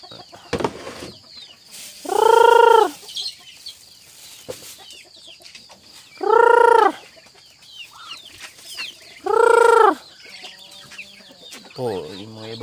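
Three loud, evenly spaced bursts of harmonic clucking from chickens rise out of a quieter farmyard background, followed by softer bird chatter near the end.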